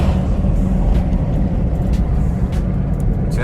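A 2019 Chevrolet Camaro SS with its engine in track mode drives along, giving a loud, continuous low engine drone with steady road rumble and no clear revs or shifts.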